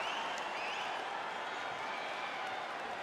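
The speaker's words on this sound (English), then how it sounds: "So the crowd voicing its appreciation after that round" Crowd applause and cheering after a round of a UFC 5 Fight Night bout between Khamzat Chimaev and Tito Ortiz, a steady wash of clapping from a large arena audience, with commentary voices underneath.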